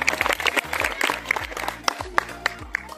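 Scattered applause from the audience at a neighbours' group family get-together: sparse, uneven claps over a low, rhythmic background hum.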